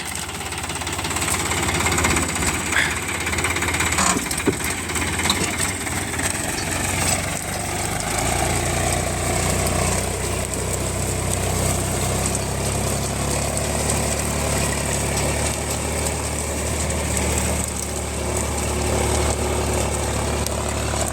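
A loud Indo Farm tractor engine drones continuously under heavy load while pulling a Khodiyar plough, a steady low rumble with knocking vibration throughout, no talking.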